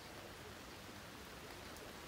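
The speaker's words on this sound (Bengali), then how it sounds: "সকালে তুমুল বৃষ্টি" Heavy morning rain falling steadily, a dense, even hiss that stays constant and fairly faint throughout with no voices.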